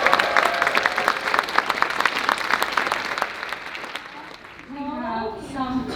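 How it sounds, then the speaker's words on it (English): Audience at a Vietnamese dinner event at a college clapping after a song performance, dense crowd applause that fades out over several seconds as a voice begins speaking at the end. "Can you please give another applause to us?"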